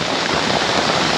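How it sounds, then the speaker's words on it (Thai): Heavy rain pours onto a hut in a stormy forest, a dense, steady hiss of drops without pause, close and fairly loud. "ตอนนี้ครับฝนเริ่มตกหนักนะครับ"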